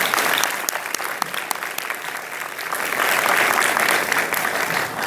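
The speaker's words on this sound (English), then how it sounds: "Can we all please give a round of applause to these gentlemen?" An audience at a Miami new-construction show gives speakers a round of applause, a steady dense clapping of a crowd that swells slightly near the end.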